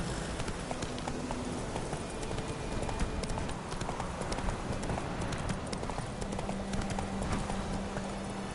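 Steady clip-clop of Roach's hooves in The Witcher 3, a slow walking rhythm that stays close and even throughout, with faint ambient game sound behind it.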